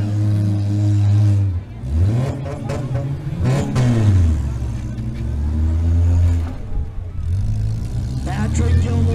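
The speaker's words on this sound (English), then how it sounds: "Patrick Gilmore shifting gears, grab another gear." Demolition derby car engine at a county fair revving hard and rising through the gears in mud, a loud continuous roar with pitch sweeps as it shifts, under an announcer's running commentary.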